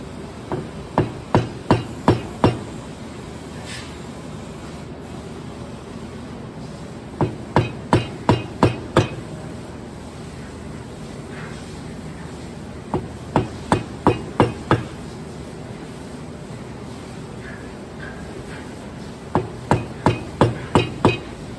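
Hand work on a flush bolt recess: a hammer strikes a chisel in four tight bursts of about five crisp, ringing blows, each burst separated by short pauses, close by and clear.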